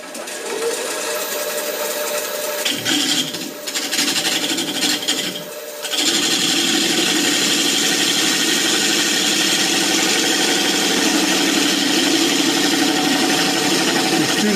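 A wood lathe turns an offset bowl made of two kinds of wood with hard inlays, giving a steady loud mechanical whir with a rapid knocking rattle that briefly drops and changes tone, then continues.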